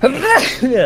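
A single sharp sneeze bursts out close to the microphone, followed by a short voiced exhale, during multiplayer play of the Airmen airship game.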